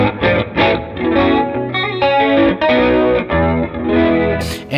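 Electric guitar run through a distorted factory preset in Bias FX 2, with chorus and effects coloring a loud, sustained, crunchy riff that plays steadily without talk.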